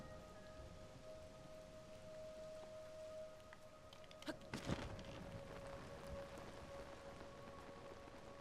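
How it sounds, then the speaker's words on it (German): Steady rain falls in Zelda: Tears of the Kingdom, a soft continuous patter with a brief distant rumble of thunder partway through and faint tonal game sounds under it. "weil es regnet ja auch noch"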